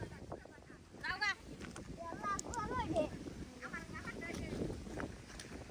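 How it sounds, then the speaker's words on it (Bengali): Strong wind blows across an open outdoor spot, a steady rumbling rush with gusts buffeting the microphone, while people talk and call out over it. "এই আজকে কিন্তু প্রচুর বাতাস"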